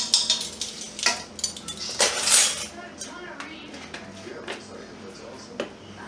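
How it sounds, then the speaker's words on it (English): A spoon stirs a barbecue mop or spritz sauce in a metal pot, with repeated clinks and scrapes against the sides at an uneven rhythm, heard close, with faint talk in the background. "And you're going to mix this real good. You don't want to scorch it. So you want to keep stirring it."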